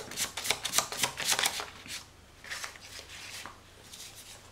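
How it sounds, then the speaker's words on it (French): Tarot cards are shuffled and drawn in quick, papery riffling bursts, close and fairly loud, easing into softer card sliding toward the end. "je vais te prendre quelques autres petites cartes"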